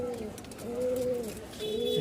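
Pigeons nearby give soft, low, drawn-out cooing calls, two or three repeated coos over a faint background hum.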